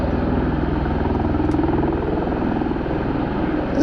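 A V-22 Osprey tiltrotor in helicopter mode hovers close by at an air force base, a loud, steady rotor drone with a rhythmic thumping pulse, continuous throughout.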